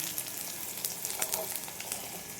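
Bitter gourd fries in a pan with a faint, steady sizzle and scattered small crackles and pops.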